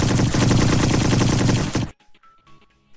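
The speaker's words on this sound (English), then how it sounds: "I just been constantly launching missiles at it." Rapid bursts of missile launcher fire in a video game build into a dense, loud barrage for about two seconds, then cut off abruptly to near silence with faint scattered ticks.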